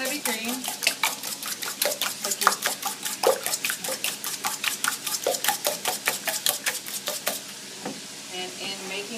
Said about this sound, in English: I'm just going to beat up the eggs and the heavy cream.